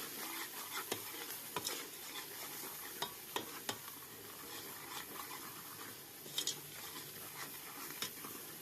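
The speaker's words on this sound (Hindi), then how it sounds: "इस तरह से भूनेंगे मसालों को" Ground spices for a chicken feet curry are fried and stirred in a pan, making a soft continuous sizzle with occasional spoon scrapes and taps, faint and without talk.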